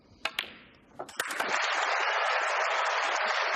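A crowd at a snooker match in the 2018 UK Championship final breaks into sustained applause after a couple of sharp ball clicks, the clapping swelling quickly and holding steady, dense and fairly near.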